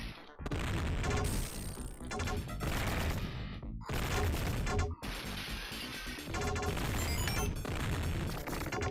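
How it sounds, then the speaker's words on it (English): Fireworks in a Sega CD video game, a loud, dense barrage of crackling bursts and booms that runs almost continuously with a few short gaps. "There's the fireworks."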